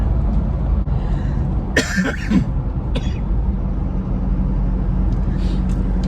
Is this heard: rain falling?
no